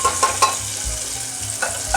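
Two medium onions fry in a pot of oil for broken-rice pulao, giving a steady, close sizzle broken by a few stirring scrapes and clinks, with no talking.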